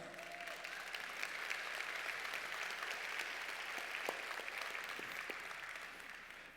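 Audience applause at a credit union member summit, a faint, steady wash of clapping from a large hall that continues without a break.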